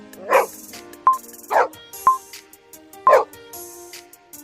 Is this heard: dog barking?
yes